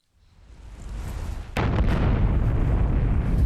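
A deep, rumbling video game explosion in Middle-earth: Shadow of Mordor bursts in suddenly after a building low roar, then keeps booming and crackling loudly to the end.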